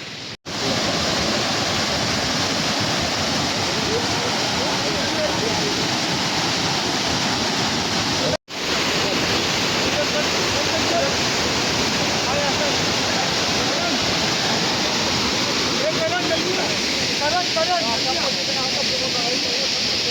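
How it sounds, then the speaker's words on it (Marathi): A large waterfall in Kerala roars as a steady, broadband rush of falling water, loud and continuous throughout, with brief voices faintly audible beneath the torrent. "किती मोठा वॉटरफॉल आहे बघा."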